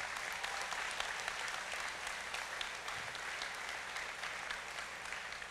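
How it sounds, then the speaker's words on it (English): Audience applause at the Choctaw Nation State of the Nation event, a steady, even wash of many hands clapping throughout, with no talk over it. "Let's give them one more round of applause."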